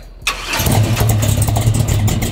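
A big block V8 in a 1961 Chevrolet Impala lowrider cranks briefly and fires up, settling into a loud, deep rumbling idle nearby.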